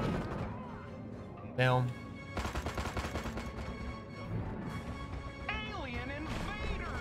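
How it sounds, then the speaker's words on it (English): Crashing, blasting destruction of a building in the Destroy All Humans! video game, with a sharp burst followed by a dense run of rapid impacts, mixed with game effects under steady talking. "let's try to destroy that building"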